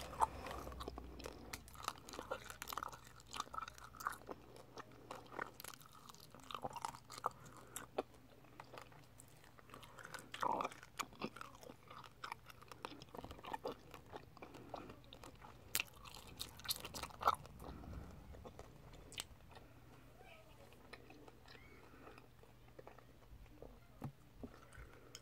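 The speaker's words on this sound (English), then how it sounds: "And as fun as this gum is, it's really crunchy." Close, crunchy chewing of Double Bubble Seedlings bubblegum with little candies inside, a long run of quiet, irregular crunches, bites and squishes with no talking.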